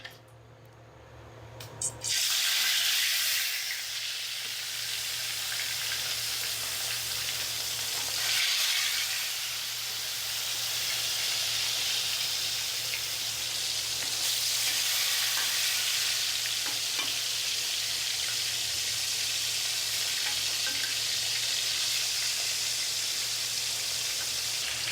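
Bata fish fry in hot oil in a wok, giving a steady, dense sizzle that continues without a break, close and even, with faint stirring.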